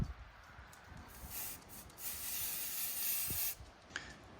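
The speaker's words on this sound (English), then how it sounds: "press down the spray and lightly dust it across the parts" Aerosol spray paint lightly dusted onto small scale model car parts outdoors, soft airy hissing bursts that swell and fade over a few seconds, faint and close with no talk.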